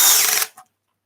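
A close, loud power drill whirs for about half a second as it drives a screw into a woodturning lathe faceplate, then cuts off with a brief faint tail before silence.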